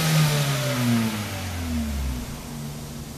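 A car engine revs loudly as the gas pedal is pressed, the pitch swelling and then sinking back toward idle, heard close with a rough exhaust tone.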